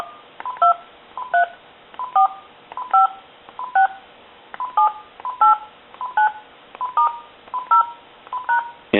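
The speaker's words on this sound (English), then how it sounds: "And then we'll dial our numbers." A Uniden 2060-2 DECT 6.0 cordless telephone dials a number: a steady run of about a dozen short keypad tone beeps, close and clear, evenly spaced with brief gaps and no talking.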